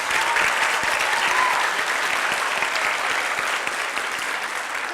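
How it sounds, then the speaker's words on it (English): A steady round of applause from an audience honouring teachers, dense clapping that holds evenly for several seconds and tapers slightly at the end. "So let's give them a round of applause."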